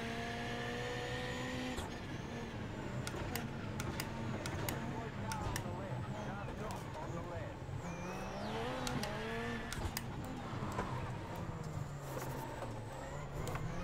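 A rallycross race car runs at Lucas Oil Raceway, its engine revving up and down with shifting pitch through corners, loud and continuous, with a voice talking over it.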